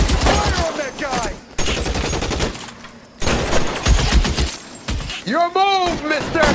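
Gunfire in the video game L.A. Noire, rapid bursts of shots and rattling fire in several loud stretches, mixed with shouting voices and a brief rising whine near the end.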